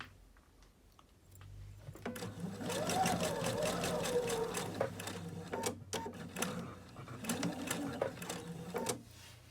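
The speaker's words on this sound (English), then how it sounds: "I'm going to sew to the corner, take out my needle." A sewing machine stitching a cloth napkin up to the corner, its rapid even mechanical whir starting up, running steadily for several seconds and stopping, close by under some quiet talk.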